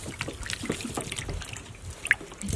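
Raw chicken legs are rinsed by hand in water in a village kitchen, giving faint, intermittent splashes and trickles with a few small drips, close by and fairly quiet.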